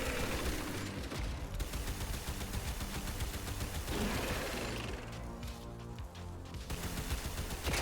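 Rapid, sustained gunfire from a gun in the video game Warframe, a dense stream of repeated shots running loud and nearly unbroken throughout, layered over busy game background noise.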